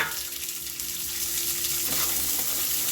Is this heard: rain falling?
no